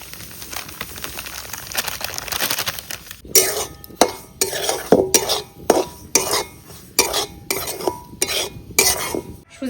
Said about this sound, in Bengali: সুজিটাকে ভেজে নিচ্ছি পাটিসাপটা পুর করার জন্য